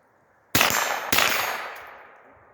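Two sharp, loud gunshots about half a second apart from an AR rifle fitted with a .22 conversion bolt, fired outdoors, each crack trailing off in a long fading echo.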